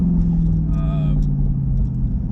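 A C8 Corvette fitted with a JMS PedalMAX throttle controller, moving from part to about half throttle: a steady, loud, low engine rumble heard from inside the car, with a voice briefly over it.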